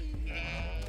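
A video game sheep bleats once, a short loud wavering call heard up close with nothing else over it.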